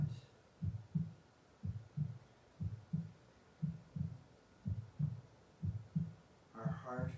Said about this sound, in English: Our heart beating in our chests